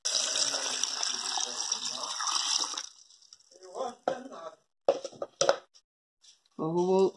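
Water poured from a tap or jug for one litre of herbal tea brewed from janaúba root and wild cashew bark, a loud steady gush for about three seconds, then quiet with brief handling noises and people talking afterward.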